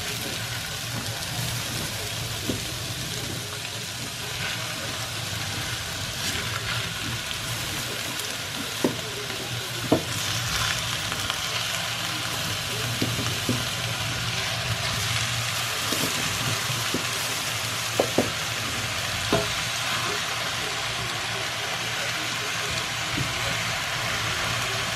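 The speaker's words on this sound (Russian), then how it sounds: "Выкладываем котлетки." Meat cutlets fry in a pan with a continuous broad sizzle, scattered with small pops and crackles, heard fairly close.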